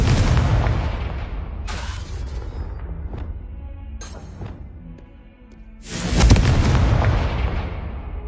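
Booming spell blasts from a PS5 wizarding action game, a loud explosive burst at the start and a second heavy blast near six seconds, with rumbling tails between and no talking.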